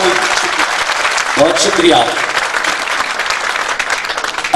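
Audience applause at a school golden jubilee and old students function, loud sustained clapping from a crowd, with a voice briefly speaking over it.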